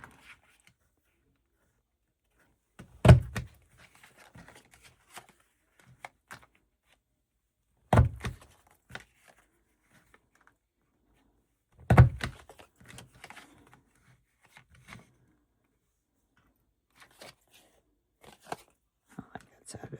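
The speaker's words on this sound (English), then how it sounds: "I'm going to cut notches in those" Scissors cutting notches into pockets made from old paper book pages, heard as three distinct snips spaced a few seconds apart, each followed by faint paper rustling in a quiet room.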